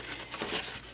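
Paper card stock for a pop-up card being cut along a scored line: a brief, dry rustling slice with a crinkly edge, close and fairly quiet, lasting under a second.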